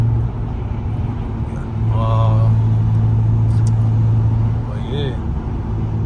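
A BMW M328 being driven slowly on a short lap, its engine a steady low drone with cabin rumble that rises for a few seconds, then eases, while someone talks briefly from inside the car.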